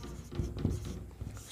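Pencil or pen scratching across paper during a 10th-class maths lesson, a few short soft strokes in a quiet room, close and faint with no talking.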